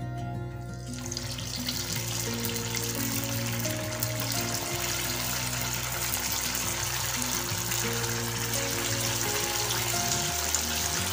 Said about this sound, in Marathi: आता आपण यामध्ये वडे तळून घेऊया।